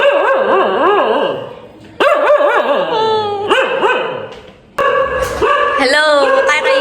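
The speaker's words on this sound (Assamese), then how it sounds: "ইফালে আমাৰ কুকুৰটো হাই" A dog at a house barks and yips in excited bursts, with whimpering, howl-like calls and a person talking alongside the repeated barking.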